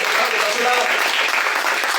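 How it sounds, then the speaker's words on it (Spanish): A church congregation breaks into strong applause, dense and sustained clapping that fills the room with no pause. "Bríndele un fuerte aplauso,"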